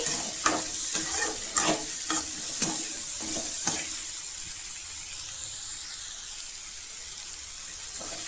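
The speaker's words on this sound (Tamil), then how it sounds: "நல்லா வதங்கி வரணுங்க தக்காளி" Tomatoes and radish sautéing in a pan, a steady close sizzle with a few sharp stirring clinks in the first seconds, then settling into a smooth, continuous frying hiss with no talk.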